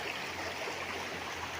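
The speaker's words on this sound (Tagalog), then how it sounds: "at ito ang ilog" A river runs through a three-hectare coconut farm lot in Real, Quezon, giving a steady, broadband rush of flowing water with no talk over it.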